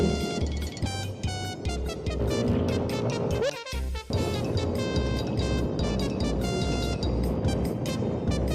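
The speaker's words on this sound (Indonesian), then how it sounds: "Tapi kencang juga nih motor ya" A motorbike rides fast along a smooth road, its engine drone and rushing wind forming a loud, continuous roar that dips briefly once midway.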